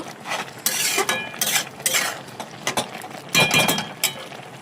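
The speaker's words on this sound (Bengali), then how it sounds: "তো শাকটা সিদ্ধ হয়ে গেছে, আমি এবার জল ঢেলে নেব।" Boiled greens drained from a cooking pot, with bursts of splashing and pouring water mixed with clanks of the metal pot, coming in several irregular surges close by.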